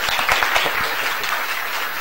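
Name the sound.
audience applause after a presentation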